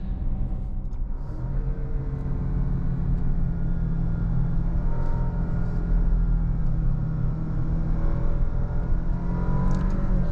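Cabin sound inside an Alfa Romeo Stelvio Veloce on Continental ExtremeContact DWS06 Plus tires: a steady low engine and road hum with a faint tire roll, even and continuous throughout.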